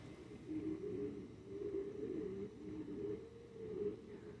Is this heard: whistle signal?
no